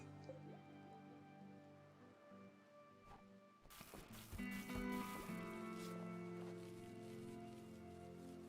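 Rainfall in the Rimworld video game: soft, steady dripping and pattering under a sustained background music bed, a brief near-silent gap partway through, then a louder rush of droplets.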